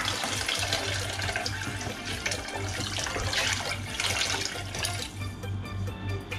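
Water gushes steadily from a tap close by, a continuous hissing splash over a low hum.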